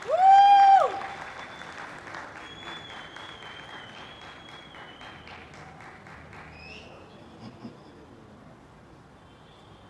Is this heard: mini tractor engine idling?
no